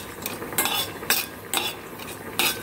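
Fenugreek seeds tempering in a pan for a green amaranth dish, stirred with a spoon: a steady background hiss broken by four or five sharp scraping strokes of metal against the pan, close and fairly loud, with no talking.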